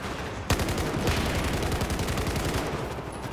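Gunfire in Battlefield 4, a loud sustained burst of rapid automatic shots, close and continuous after an opening crack, with no talk over it.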